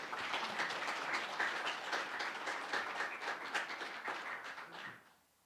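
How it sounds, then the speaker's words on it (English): Audience applause for the Albany County sheriff at a community meetup in Laramie, a dense, steady roar of many clapping hands that holds for about five seconds, then quickly fades out. "Round of applause."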